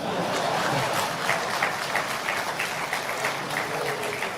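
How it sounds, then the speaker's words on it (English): Steady, dense audience applause at a government launch event for Ghana's National AI Strategy, continuous and fairly loud throughout with no break. "Please, can I get another applause?"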